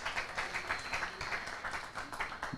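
An audience claps at a colourful Independence Day cultural programme. The applause is faint and somewhat distant, with steady scattered hand claps and no one speaking over it.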